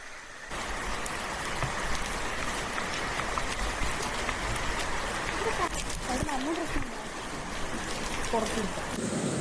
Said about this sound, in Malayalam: നല്ല രീതിയിൽ മഴയുണ്ട്.